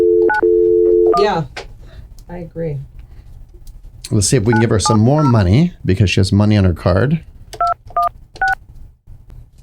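Telephone keypad dialing tones during a live call to a real estate client: a steady tone opens, then a few short beeps sound, and after a stretch of talk three evenly spaced tone pairs ring out clearly.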